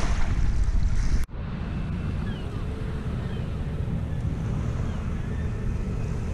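A Harwich harbour ferry heading out to sea, heard as a steady low engine rumble mixed with wind buffeting the microphone and water noise, after a brief cut near the start.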